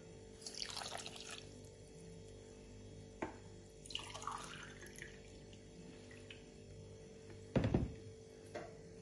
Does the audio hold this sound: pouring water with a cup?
yes